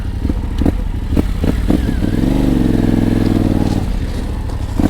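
A Yamaha Tenere 700 adventure motorcycle rides off-road, its engine droning steadily up close with a brief rising rev in the middle, while loose clatter and knocks from the rough terrain sound through.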